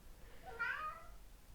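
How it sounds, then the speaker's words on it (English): A single short cat meow, fairly faint and close, rising and falling over about a second against a quiet background. "That's the cat."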